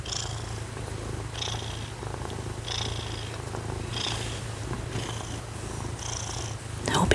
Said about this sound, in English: I hope y'all can hear his purring.